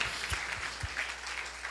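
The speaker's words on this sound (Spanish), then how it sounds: "Dele al Señor esas palmas, déselas a Él de todo su corazón." A church congregation applauds, a brief patch of dense clapping at moderate distance with a few sharper hand claps standing out.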